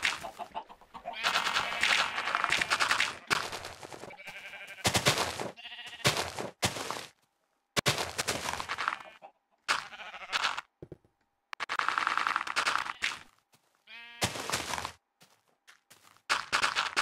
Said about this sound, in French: Désolé pour les bruits de couac hein, si vous entendez